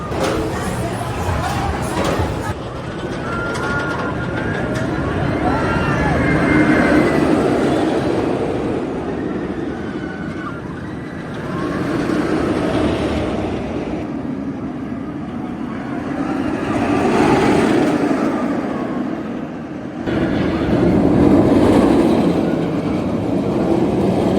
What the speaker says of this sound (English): Georgia Scorcher, not too many stand-up coasters left. Let's see how she rides.